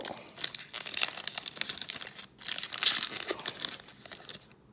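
Foil wrapper of a 2020 Topps Series 2 Jumbo Hobby baseball card pack being torn open and crinkled, with close, sharp crackling in several uneven bursts.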